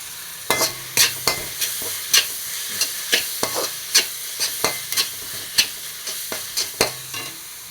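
A metal spoon scrapes and taps repeatedly against a frying pan while chilli, turmeric, coriander and pepper powders are stirred into sautéed onions for a mushroom dal, with a soft sizzle underneath and steady, close, irregular strokes.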